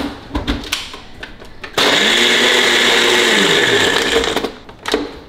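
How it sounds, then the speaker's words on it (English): A blender whirs loudly for a few seconds as it crushes ice into a protein shake, its pitch shifting as the load changes, with knocks and handling sounds just before and after. "Shake it up and throw it in the blender."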